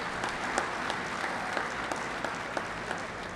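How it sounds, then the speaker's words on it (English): An audience at a secondary school football league awards ceremony applauds steadily with dense, continuous clapping throughout, moderately loud and even, with no talking over it. "round of applause once again for the outstanding performances."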